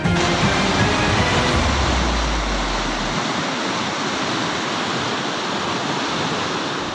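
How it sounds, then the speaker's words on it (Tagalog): Floodwater roaring out of Kailanan Creek in Dampalit, Malabon, through a broken tide control gate; a loud, continuous broadband rush of water with a deep rumble early on, unbroken throughout. "Ganito kalakas ang ragasan ng tubig palabas sa Kailanan Creek sa barangay Dampalit, Malabon kahapon ng umaga matapos masira ang Dampalit Tide Control Gate."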